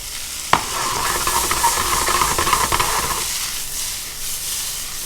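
Noodles sautéing in butter in a pan: a sharp clack as they drop in, then about three seconds of loud close sizzling and stirring that fades to a quiet hiss.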